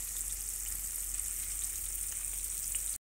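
Fish fries in a pan with a steady hiss and sizzle of hot oil, continuous and fairly close, ending in an abrupt cut.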